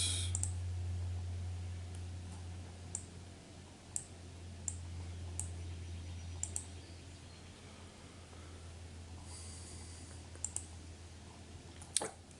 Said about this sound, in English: just click on this